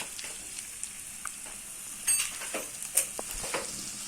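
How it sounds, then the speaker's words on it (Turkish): Rice for a pilaf, with a teaspoon of sugar added, sizzles while being sautéed in a pan, a quiet steady frying hiss broken by a few soft stirring scrapes and taps. "biraz daha kavurduktan sonra suyunu vereceğim"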